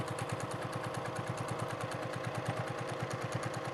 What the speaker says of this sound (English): start on that bottom edge, backstitch all the way off the corner, because this way I'm securing everything at once